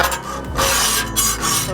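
A metal spatula rasps and scrapes across the hot steel surface of a Blackstone 36-inch griddle during seasoning, loud and close, a continuous gritty rubbing with a few stronger strokes.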